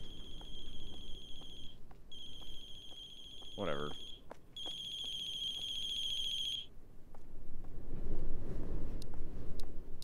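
A mobile phone rings with a repeating electronic ringtone, bright steady tones in two long bursts separated by a short gap, while a person speaks briefly over the ringing.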